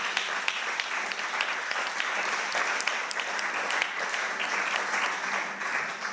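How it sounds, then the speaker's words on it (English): Sustained applause from a conference audience, a dense, steady wash of many hands clapping continuously at close range for several seconds, with no pauses and only faint voices beneath it. "One more round of applause,"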